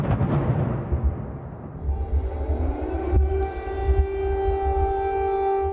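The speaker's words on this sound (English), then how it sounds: "as the sirens wailed again overnight" Air raid sirens wail across Kyiv, Ukraine overnight, a long rising and falling tone that settles into a sustained mechanical howl, with a low rumble underneath and distant echoes.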